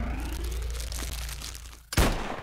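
Shotgun sound effect ending an action movie title sequence: a sudden loud blast near the end that cuts through a dense, rumbling background bed.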